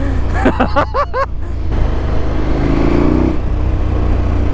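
A remapped KTM 1290 Super Adventure S motorcycle engine pulls hard in a loud, steady roar under a voice. A brief series of rising revs comes first, then sustained engine drone and wind.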